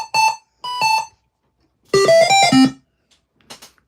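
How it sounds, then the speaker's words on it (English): A freshly loaded wavetable synth patch blares very loud, sounding as two short sustained tonal bursts, then a longer stepped run of bright pitched notes, followed by faint quiet blips. "Wavetables are very loud when you load them"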